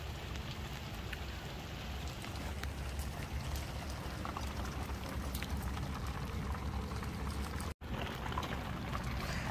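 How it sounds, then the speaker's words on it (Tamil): Steady rain falls during a heavy downpour and drips lightly through a covered roof above an outdoor cooking spot, a dense continuous patter and hiss with no voices, broken once by a brief dropout near the end. "அந்த இடத்துலருந்து வந்து கொஞ்சம் லைட் லைட்டாக அந்த ஒழுகிட்டு இருக்கும் மழை"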